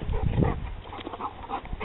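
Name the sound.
dog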